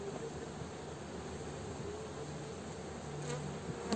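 Honeybees buzz around an open hive during an inspection of frames, a dense, continuous drone close by and swirling around the beekeeper's hat, with no voices.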